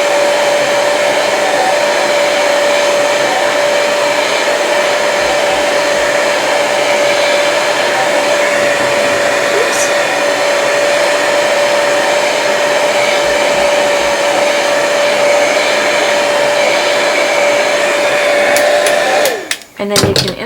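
A heat tool blows hot air steadily over magic blocks, a loud, continuous whirring hiss that holds for nearly twenty seconds before cutting off abruptly at the end.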